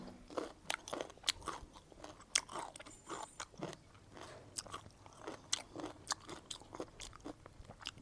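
Crunchy pickled mango being bitten and chewed, a close series of sharp, irregular crunches repeating steadily for several seconds, fairly quiet with no talking.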